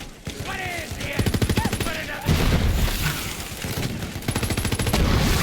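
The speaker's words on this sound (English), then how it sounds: "So they just didn't walk out when they heard all these gunshots?" Rapid bursts of gunfire in the shooter video game Borderlands 3, loud, repeating volleys mixed with game effects and voices talking over the action.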